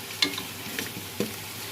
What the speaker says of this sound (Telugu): నూనెలో వేయించేసుకొని చెక్క, లవంగా, యాలక్కాయ